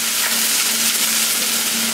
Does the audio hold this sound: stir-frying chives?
yes